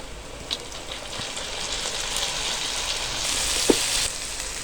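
Tomatoes added to onions frying in a pan, a soft steady sizzle with scattered crackles and a single sharper pop, close but fairly quiet, growing slightly louder toward the end.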